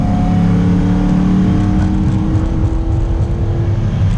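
A 1974 Alfa Romeo Montreal's engine accelerates in a loud, continuous close-up drone, its tone rising steadily as the revs climb, with no voices over it.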